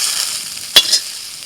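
Soaked soybean chunks fry in hot oil, a steady hiss of sizzling with one sharp clack of a utensil midway, no voices.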